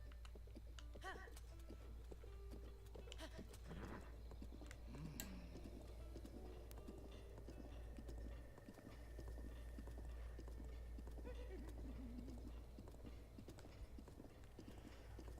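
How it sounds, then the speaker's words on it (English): Horse hoofbeats from Zelda: Breath of the Wild, a steady, rhythmic clip-clop that runs close and clear for the whole stretch over a continuous low in-game background hum. "One of the cool things about this game is that if you get the horse on a path,"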